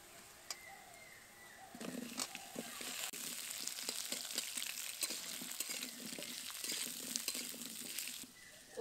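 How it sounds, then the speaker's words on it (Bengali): Kohlrabi pieces stir-fried with chopped onion in a hot pan sizzle steadily, with a spatula scraping and clattering at irregular intervals close by. "ওলকপিগুলো ভাজা ভাজা হওয়া পর্যন্ত এখন নেড়ে নেব।"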